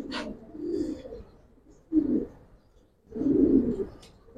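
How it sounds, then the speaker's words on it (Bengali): A male silver Giribaz pigeon with full-ring pearl eyes gives low, throaty coos in three separate bursts, close and fairly soft, with no talking. "এটা আমার একটা নর কবুতর"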